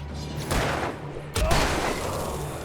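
Gunfire in the video game Alan Wake Remastered: a couple of heavy booming shots over dark, rumbling game ambience, with faint voices in the background.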